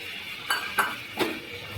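Coriander leaf paste being stirred into tomato masala in a pan, heard as a few distinct spoon-against-pan scrapes and clinks spaced about a beat apart, faint and close with no talk.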